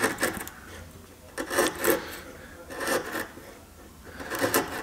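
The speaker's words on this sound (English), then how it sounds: "So we just pare across, working across the grain like this" A sharp chisel pares across the grain of English oak in short scraping strokes, five or six rasping shaves close by with brief pauses between them.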